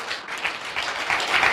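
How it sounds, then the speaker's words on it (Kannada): A church congregation claps loudly together during a Kannada sermon, a thick continuous roll of many hands that swells slightly toward the end, with no talking over it. "ದೊಡ್ಡ ಚಪ್ಪಾಳೆ ಕೊಟ್ಟು ದೇವರಿಗೆ ಮಹಿಮೆ ಹೇಳೋಣ ರೀ"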